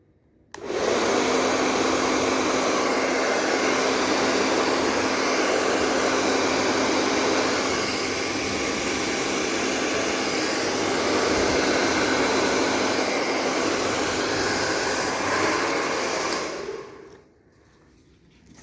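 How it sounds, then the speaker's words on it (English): A hair dryer blows steadily for a long stretch on wet pearlescent fluid-art paint, a loud constant whoosh with a faint hum, then cuts off near the end. "it's a pity I used the hairdryer"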